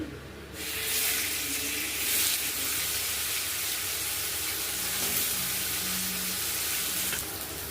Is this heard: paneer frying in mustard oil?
yes